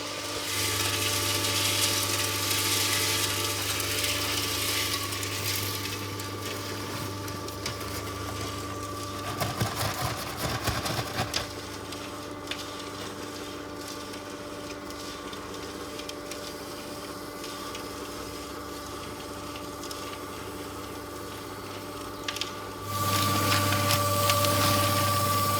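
A small concrete mixer churns steadily nearby for a building site retaining wall footing job, a continuous low motor hum with a drum rumble and a burst of rattling scrapes in the middle.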